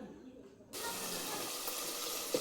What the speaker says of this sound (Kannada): ಮಿಕ್ಸಿ ಜಾರ್ನ ಸ್ವಲ್ಪ ತೊಳೆದು ಹಾಕ್ಕೊಳ್ಳೋಣ.